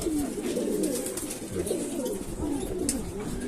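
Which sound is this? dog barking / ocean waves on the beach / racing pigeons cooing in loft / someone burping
racing pigeons cooing in loft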